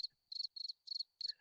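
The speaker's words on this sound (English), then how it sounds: "The cricket." Four quick bursts of high, shrill cricket chirping in a steady rhythm, each a rapid trill, close and clear with silence between.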